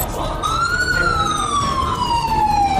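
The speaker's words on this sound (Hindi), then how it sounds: "लाहौर में लश्कर के अड्डों पर सायरन बजने लगे हैं।" A wailing siren sounds at camps in Lahore, its rising and falling tone loud and continuous over steady background noise.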